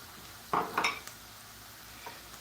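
An onion caramelizing in a pan, with a soft steady sizzle and a few brief clinks and stirring scrapes near the start, no talking.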